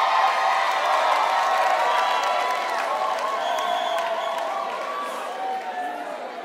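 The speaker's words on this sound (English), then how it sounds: "Round of applause for Clement." A crowd applauds and cheers a singer at a Project Fame performance, with sustained clapping, whoops and shouted voices blending into a bright, lively roar that slowly eases.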